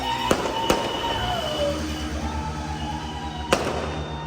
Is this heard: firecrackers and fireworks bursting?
yes